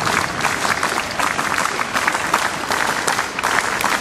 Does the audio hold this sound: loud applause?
yes